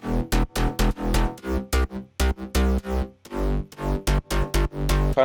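An electronic dance music drop bass line made of heavy, punchy low synth notes in a choppy rhythm. The stabs are loud, close and fill the whole passage.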